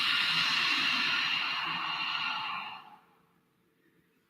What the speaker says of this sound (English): deep breaths from the belly